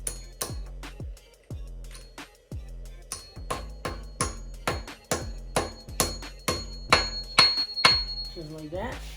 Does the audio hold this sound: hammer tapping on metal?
yes